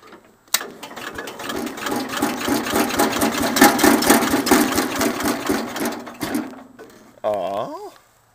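A Cub Cadet 107 lawn tractor engine cranks on a cold start with full choke, a loud rhythmic chugging of the starter that runs about six seconds and then cuts off, followed by a brief voice.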